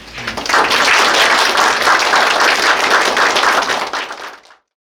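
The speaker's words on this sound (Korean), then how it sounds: "의료원 가족분들의 많은 축하와 환영의 박수를 부탁드립니다." Hospital staff give loud, dense applause at the inauguration of the 17th director of Gimcheon Medical Center, the clapping swelling quickly, holding strong, then fading out before silence.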